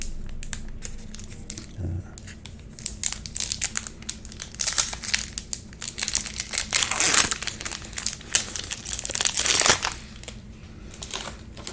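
Foil wrapper of a Magic: The Gathering booster pack crinkling and tearing as it is opened up close, with irregular crackles swelling into louder crumpling bursts.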